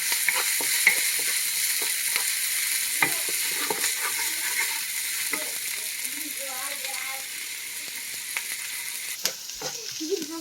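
Chopped onion fries in a pan for spaghetti with ground pork, a steady broadband sizzle with scattered stirring clicks and scrapes throughout, close and fairly loud, with no talking.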